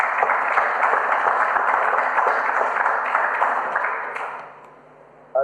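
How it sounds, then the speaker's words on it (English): Councillors and attendees at a council meeting give a round of applause for a presenter, a full crowd clapping that holds steady and then tapers off to quiet near the end. "I think we might start Nick off with a round of applause,"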